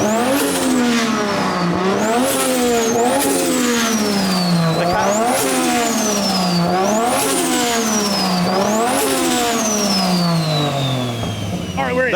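A car engine revs repeatedly, rising and falling in pitch about every two seconds in a steady cycle of loud, close acceleration sweeps that continue for the whole stretch.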